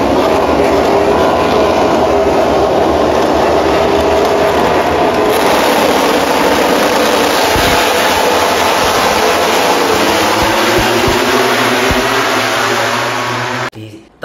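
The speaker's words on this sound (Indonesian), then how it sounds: "bagaimana motor itu digeber pol-polan sewaktu setat" MotoGP motorbikes revving at full throttle at the race start at Mandalika, heard from the grandstand as a loud, dense, continuous engine roar with a few lower bursts, ending abruptly.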